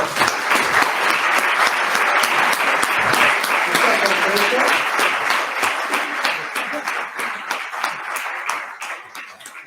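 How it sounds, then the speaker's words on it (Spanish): A gala audience applauds a guest speaker in a steady, dense burst of clapping that fills the room for nearly ten seconds, then thins slightly toward the end, with some voices mixed into the ovation. "Un aplauso para Esther Novalgo."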